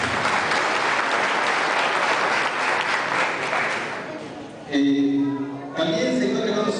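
A crowd at a provincial domino championship in Santo Domingo applauds loudly and steadily, then the clapping fades and an amplified voice speaks over a sustained tone.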